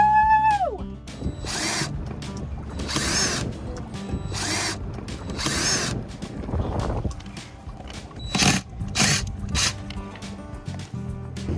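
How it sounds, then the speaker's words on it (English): A power drill backs screws out of the teak deck on a Hallberg Rassy 352 sailboat. Several loud whirring bursts of a few seconds each come close by, separated by short pauses and clicking handling noise. "Time to get drilling, unscrewing."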